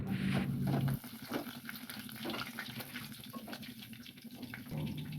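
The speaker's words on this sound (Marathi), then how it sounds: "आता पाणी ॲड केलं." Water is poured into a pot of oil-fried ginger-garlic paste and whole spices for rice, giving a short burst of sizzling splash followed by softer bubbling and hissing, close and moderate in loudness.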